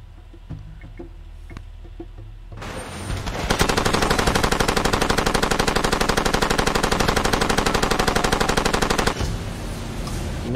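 Sustained automatic gunfire from the video game Far Cry 2 erupts after a quieter stretch, a loud rapid burst of evenly spaced shots hammering on for several seconds before cutting off.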